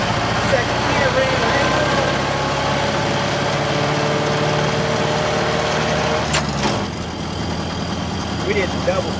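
A 1929 Ford Model A engine running in second gear, a loud steady close drone with rumbling vibration that drops in pitch near the end as the gears change.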